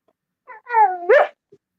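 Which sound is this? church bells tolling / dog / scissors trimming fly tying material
dog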